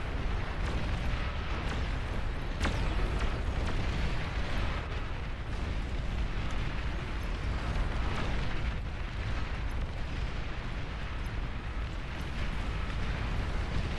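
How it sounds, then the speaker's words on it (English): Dense, continuous rumble of explosions and blasts from a large real-time strategy battle in Beyond All Reason, layered booms and bursts filling the whole stretch at steady loudness with no pauses. "But the explosions are gonna look so sick."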